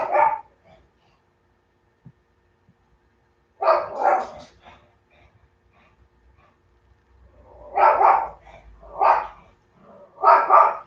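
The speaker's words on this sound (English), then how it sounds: "They bark at everything." A small dog barks in short sharp bursts, a single yelp first, then a pause, then clustered barks of three or four in a row, loud and near with quiet gaps between.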